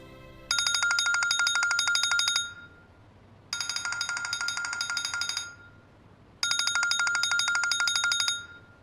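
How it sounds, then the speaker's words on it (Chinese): A phone ringtone plays in three long bursts of about two seconds each, separated by short pauses, bright and electronic, clear and moderately loud against a quiet room, with no talking. "怎么不接电话呀？"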